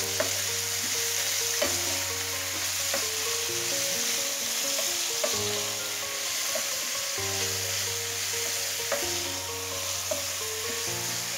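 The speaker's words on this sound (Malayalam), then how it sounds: "പയർ 1 മിനിറ്റ് വതക്കിയ ശേഷം വഴുതനങ്ങ ഇടാം" Soaked, chopped brinjal hisses and sizzles steadily in a hot pan with green beans for an easy thoran, with periodic scraping stirs punctuating the constant frying noise.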